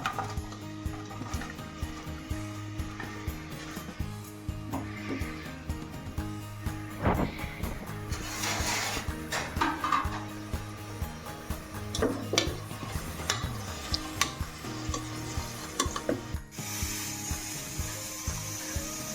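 Four onions fry in a pan until deep red for Ramadan haleem, with steady stirring scrapes and a soft sizzle running throughout over a low tonal background that sounds like music.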